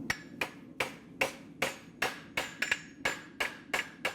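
A hammer strikes a horseshoe on an anvil in a steady run of about eleven sharp metallic blows, close and evenly paced, with no talking.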